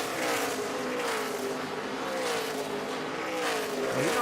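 NASCAR Nationwide Series race cars roar around the track in the final laps of the 2012 Pioneer Hi-Bred 250, a dense, sustained engine drone with pitch shifting as cars pass.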